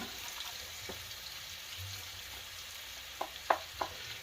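Cowboy chili with meat simmering in a pot, a soft continuous sizzle and bubbling with a few louder pops and stirring clinks near the end.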